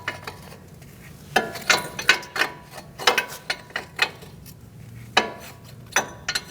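An 18mm wrench breaks free and turns a front lower control arm nut on a 2016–2019 Chevrolet Cruze, giving a series of sharp, close metallic clicks and clacks at irregular intervals over a low background hum.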